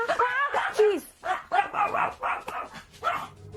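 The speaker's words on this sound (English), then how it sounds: "setting off the dog alarm." A dog goes off like an alarm after a knock at a house door, giving a rapid run of loud close barks and yips with a whine mixed in, and a voice overlaps the barking.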